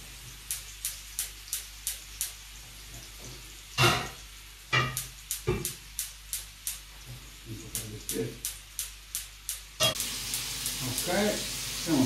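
Cevapcici frying in olive oil in a pan give a run of regular crackling spits, with sharp bursts of sizzle as the food goes in and a steady hiss underneath.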